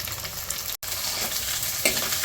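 Chopped shallots and green chili fry in a pan for fish curry, stirred continuously with a steady, close crackling sizzle and scraping, briefly cut by a moment of near silence.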